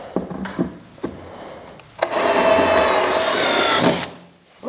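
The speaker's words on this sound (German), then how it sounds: "Und jetzt bohren wir einmal durch." A power drill bores through wood in one sustained, loud grinding burst lasting about two seconds, after a few light knocks and handling clicks, while building furniture inside a Sprinter 4x4 camper van.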